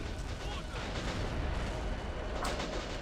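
An artillery piece fires in the Army Men video game, a dense rumbling boom and roar of battle filling the clip, with a sharper crack near the end, loud and sustained.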